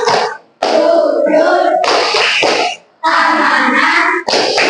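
Children's rhythmic clapping chant, tepuk sifat Rasul, led in a classroom: loud, close voices chanting in bursts separated by short pauses, with clapping mixed in among the chanted words.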